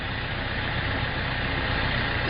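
An LS RS650VCZ tractor's diesel engine idles steadily right after starting, a close, loud, continuous low rumble with no speech over it.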